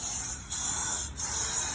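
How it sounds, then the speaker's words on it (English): Spray grease hisses steadily from a can into the posts of a car lift, a close, continuous spray with two brief pauses. "I spray that with spray grease"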